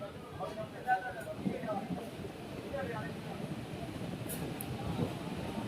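A Siliguri–Haldibari DEMU passenger train runs with a steady, rumbling rail noise and faint clatter heard from inside, with a voice faintly talking over it.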